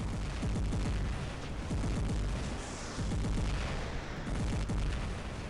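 Taran weapons firing in the War Robots video game, a dense, continuous barrage of heavy booming shots and thuds rolling on without pause, loud and close throughout.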